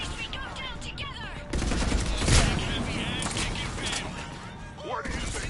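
Sustained gunfire from a firefight in the video game Mass Effect 3, with dense overlapping shots and a heavier burst midway, loud and continuous throughout alongside game effects.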